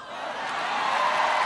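A large crowd at a 2016 Obama and Clinton campaign rally roars and boos, a dense, steady wash of voices that swells slightly louder over a second and a half.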